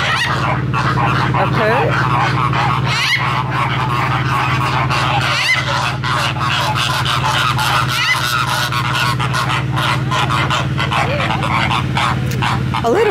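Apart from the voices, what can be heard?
macaw calling at zoo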